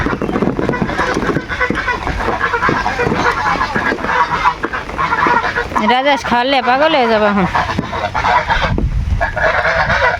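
Loud honking and quacking from a group of domestic ducks close by, rising in a burst of calls, with a person speaking and background noise throughout.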